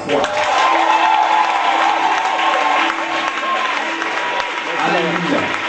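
A church congregation at a faith service bursts into sustained applause and cheering, a dense, loud crowd roar that holds steady throughout with voices mixed in.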